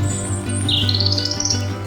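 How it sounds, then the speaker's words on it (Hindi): A bulbul's song in an Urdu nursery rhyme: bright chirps and a rising whistled phrase ring out over a steady musical backing, close and clear. "बुलबुल का बच्चा गाता था गाने"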